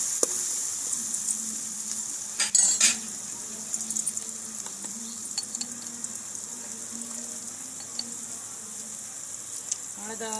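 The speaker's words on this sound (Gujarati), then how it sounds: "સરસ રીતે મિક્સ કરી લઈશું." Chopped green onion and green garlic sizzle in a hot pan for bharthu while a spoon stirs, giving soft frying hiss with scattered scraping taps nearby.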